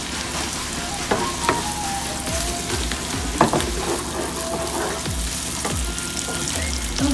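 Onions frying in hot oil for a Kerala-style fish masala, a continuous close sizzle with scattered crackles and knocks of stirring against the pan, steady throughout.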